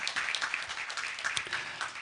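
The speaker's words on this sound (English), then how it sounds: "big round of applause for them." Audience applause at an international educational symposium, a steady patter of many hands clapping at moderate distance for about two seconds.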